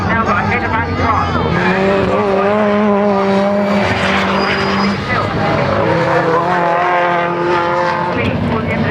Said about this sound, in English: Ford Fiesta leads the way.